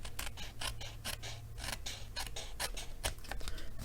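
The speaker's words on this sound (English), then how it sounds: "And so then I just trim it off, not losing that much to do that." Scissors trimming paper card for a handmade Christmas card, a run of quick close snips and crisp cuts with short gaps between them, quiet and with no talk.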